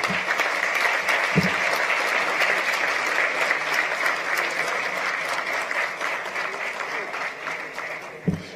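Sustained audience applause fills a hall at a live Dirshu Daf HaYomi B'Halacha event in New Jersey, dense steady clapping from a large crowd with no talk over it, running unbroken and tapering slightly at the end.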